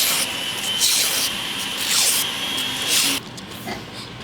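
Sandpaper rubs hard against a hammered metal patch being shaped for a tuba, a close, loud rasping sweep in long back-and-forth strokes that drops to a quieter scrape near the end.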